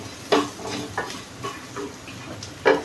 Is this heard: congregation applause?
no